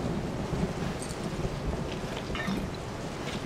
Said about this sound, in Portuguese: Tá chovendo lá fora.